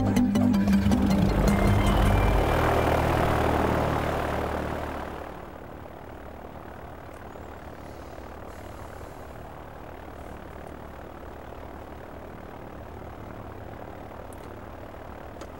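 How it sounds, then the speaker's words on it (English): A light aircraft engine during a run-up before flight, a loud steady propeller drone that drops away after about four seconds to a low distant rumble, with no talking. "This next scenario could be used during an engine run-up before flight."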